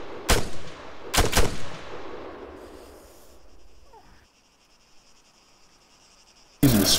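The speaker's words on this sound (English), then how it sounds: "Using a suppress weapon now?" Suppressed rifle fire in the Arma 3 co-op mission Assault on Molos: two sharp, loud shots with decaying tails, quiet ambient hiss after, then another abrupt loud burst at the end.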